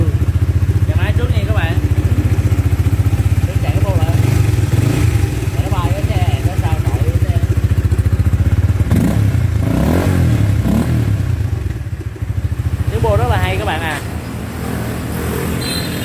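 A manual-clutch motorcycle at a used-bike dealer's lot idles loudly up close and is blipped through several quick revs, with people talking over the engine throughout.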